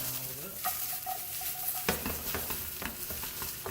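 Wonky-cut carrots and rustic vegetables such as asparagus fry in a pan, giving a soft, steady sizzle with light stirring scrapes and a few small clicks of a utensil against the pan.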